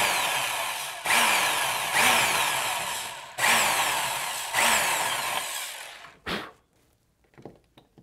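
A power drill drives screws into a wrap-around curtain rod bracket on a wall with metal behind it, whirring loudly in four bursts with short pauses between them, then a few faint clicks and handling noises after it stops.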